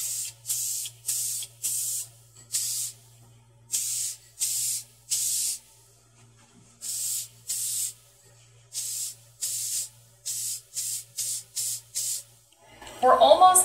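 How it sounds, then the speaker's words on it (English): Short hissing bursts of lacquer from a spray can repeat in a quick, uneven rhythm close by, coating a pallet-wood crate, with brief pauses between, followed by a clatter at the end. "first we're going to coat this with spray lacquer before we put on our hinges"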